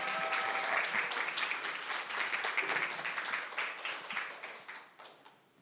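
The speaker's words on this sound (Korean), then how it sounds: "다시 한번 적재 씨에게 큰 박수" An audience at a youth culture festival gives a performer a warm round of applause, crisp clapping that starts full and gradually thins and fades toward the end.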